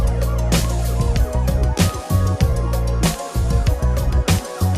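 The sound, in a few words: siren sound effect in music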